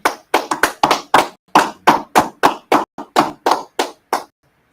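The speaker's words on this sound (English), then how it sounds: "All right, clap it up." A group claps in tight unison, about seventeen sharp, evenly spaced claps in a quick rhythm, loud and close, then silence.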